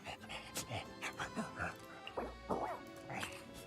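A human voice imitating a dog, giving a quick run of whimpers, yips and panting barks, fairly faint against steady background noise.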